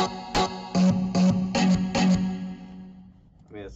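A synth with reverb added during music production plays a run of five bright, buzzy chord stabs in an even rhythm, each one leaving a reverb tail, followed by a long fading decay.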